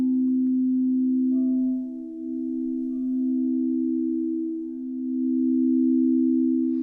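A frosted crystal singing bowl rings with a steady, pure sustained tone that swells gently, with a faint higher overtone layered above, continuous and resonant.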